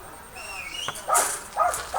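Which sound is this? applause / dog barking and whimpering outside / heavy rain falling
dog barking and whimpering outside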